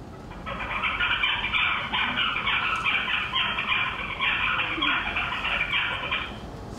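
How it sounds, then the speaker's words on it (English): A baby songbird's unstable juvenile song, a continuous run of chirpy, buzzy notes without clear repeated structure, steady and fairly loud over a faint low background hum. "here's the baby bird song"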